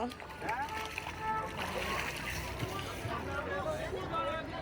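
A child dunks their head in rainwater during a downpour, making irregular splashes and sloshing, with family voices talking over the water.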